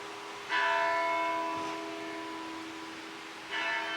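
The church bell at St. George's Church in Fredericksburg rings out across the street, two clear metallic strikes about three seconds apart, the first leaving a long humming decay, moderately loud and carrying from a short distance.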